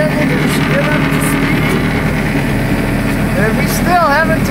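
A steady, loud Bayliner boat engine idles on a lake with a constant low rumble, while voices talk over it near the end.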